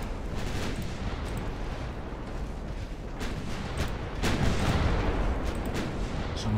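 Cruiser guns firing high explosive rounds in a naval battle in Ultimate Admiral Dreadnoughts, a dense, continuous rumble of booming shots and blasts that swells louder toward the end, with no talk.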